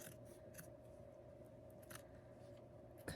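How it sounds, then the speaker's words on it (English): Scissors snip yarn to make a tassel for a winter craft. Two or three quick, close cuts stand out over a quiet background hum, with no talking. "I am going to grab my scissors and I'm going to just cut"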